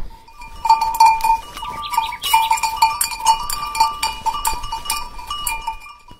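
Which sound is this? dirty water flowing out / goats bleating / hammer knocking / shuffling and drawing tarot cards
goats bleating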